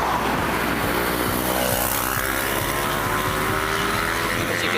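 Road traffic passes a cyclist on a forest road climbing gently through trees, a continuous loud rush of vehicles and engine noise close by.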